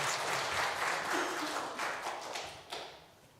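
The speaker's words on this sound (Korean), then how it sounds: "우리 격려 박수 한번 해주세요" A church congregation at a Sunday worship service with a baptism ceremony gives steady, dense applause of encouragement that fades toward the end, and a brief voice is heard.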